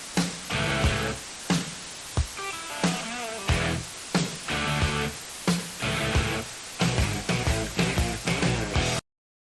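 Intro with its rhythmic rock guitar chords and drum hits, played under a continuous layer of added noise that stays throughout before the music cuts off abruptly.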